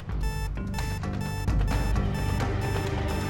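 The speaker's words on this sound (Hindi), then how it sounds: "ये तो हमारी तिजोरी का अलार्म है।" A household safe's alarm rings in an Indian TV drama: a steady electronic ringing tone with bright sustained pitches that carries loudly and continuously throughout, with no voices over it.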